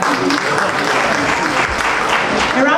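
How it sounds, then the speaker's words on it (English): A crowd bursts into steady, dense applause right after a speaker finishes, the clapping loud and continuous throughout with some voices mixed in. "A round of applause"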